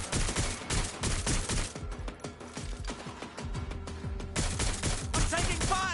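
Bursts of rapid automatic gunfire aimed at the player in Watch Dogs Legion, loud and close, with overlapping volleys and short gaps between them.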